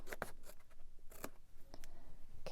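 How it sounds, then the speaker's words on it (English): Scissors trim the uneven edges of a paper card during a stamping craft project, giving a few quiet, close snips in an irregular rhythm. "so you might want to trim these little edges if they weren't cut exactly"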